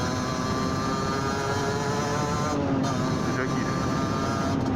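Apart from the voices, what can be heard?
motorcycle being ridden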